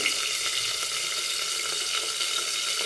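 Bitter gourd pieces fry under a lid in a covered pan, a continuous even sizzle and crackle heard close up with no talking.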